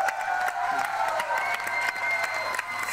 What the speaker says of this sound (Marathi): जोरदार टाळ्या झाल्या पाहिजेत भाऊ कदम यांच्यासाठी